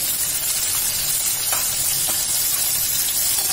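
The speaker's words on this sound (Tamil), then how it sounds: "சின்ன வெங்காயத்தை போட்டு நல்லா வதக்கணும்" Small shallots sautéing in a pan for curry leaf chutney give a steady, close sizzle with a few soft stirring scrapes, and nobody speaks.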